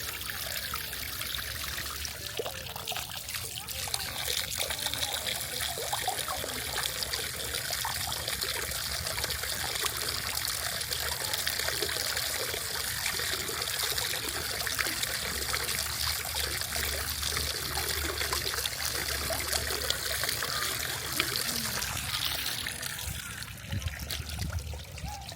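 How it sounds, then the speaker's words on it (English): Water trickles and runs down a fillable playground water feature at the Ringling grounds in Sarasota, Florida, a steady, continuous splashing flow heard close, with faint background activity. "There's this really cool water feature that you can fill up and let the water run down."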